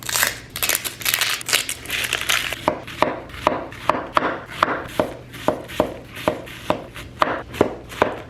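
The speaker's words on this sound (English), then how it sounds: "I just need to dice up an onion," A knife dices an onion on a board, starting with rough scraping and then settling into a steady run of crisp, evenly spaced chops, close and clear.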